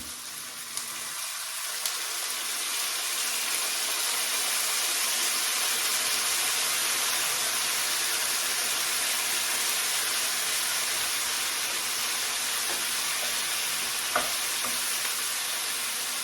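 Orange chicken frying in a pan as sauce packets are stirred in, a loud continuous bright sizzling hiss that swells after a quieter start and holds steady, with a few faint utensil clicks and no talking.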